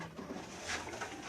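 A racing pigeon gives a faint, soft coo close by amid quiet background noise.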